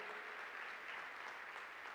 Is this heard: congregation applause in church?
yes